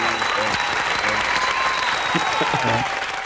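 A round of applause on a film talk podcast, a steady wash of clapping with voices talking and laughing over it throughout.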